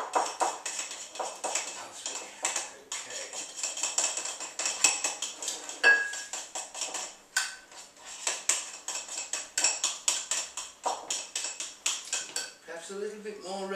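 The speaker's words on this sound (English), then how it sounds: "Mix that around." A spoon clinks and scrapes repeatedly against a bowl while coloured icing is mixed for cupcakes, a quick irregular rattle of stirring with short pauses and a faint voice near the end.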